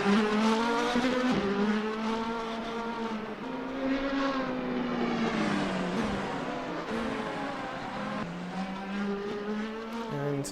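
Sim racing cars at the Indy round of a championship: a loud, continuous engine whine with shifting pitch as one car spins off, layered engines droning close throughout.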